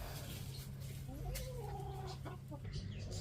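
Chickens cluck and murmur in a small farm coop, soft nearby clucks over a low steady hum, with occasional short calls.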